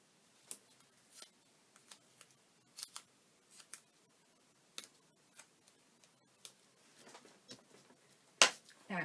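Scissors trim excess paper while making a Christmas spinning card, giving a series of short, crisp snips at irregular intervals with quiet between them, close up.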